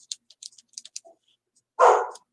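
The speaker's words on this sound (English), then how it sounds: "Teaching him how to bark at noises." A house dog in a home gives a single short, loud bark after a stretch of faint ticking and tapping sounds; no one talks over it.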